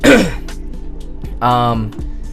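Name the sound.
throat clearing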